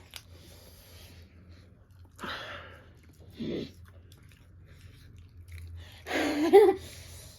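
Panipuri being eaten with close, soft chewing and a few short crunchy bites in separate bursts over a quiet background, with no talking.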